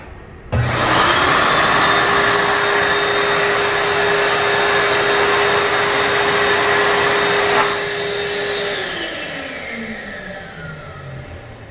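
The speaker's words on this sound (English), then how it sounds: "Also, here's another accelerator hand dryer." Xlerator hand dryer blasts loudly at full power with a steady, high-pitched whine and rushing air, then shuts off and winds down as the motor tone slowly falls away.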